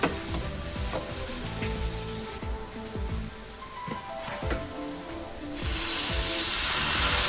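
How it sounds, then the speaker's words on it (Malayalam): Tomatoes sautéing in a pan for Kerala-style beef curry, a steady close sizzle and hiss with occasional stirring clicks and scrapes, growing brighter and louder near the end, no speech. "തക്കാളി ചേർത്ത് കൊടുത്തിട്ട് നമുക്ക് ജസ്റ്റ് ഒന്ന് വഴറ്റിയെടുക്കാം"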